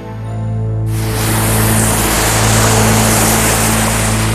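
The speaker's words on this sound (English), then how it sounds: "After dinner, of course, comes washing dishes." Broadband rushing water from a tap during dishwashing, surging in abruptly after a second and then pouring steadily and loudly to the end, with a low mechanical hum running underneath throughout.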